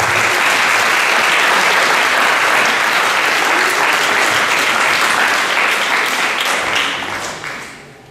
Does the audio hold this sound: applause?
yes